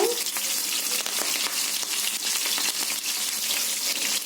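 Onion pieces and curry leaves sizzle and crackle in a hot pan, a loud, dense, steady frying hiss with no talk.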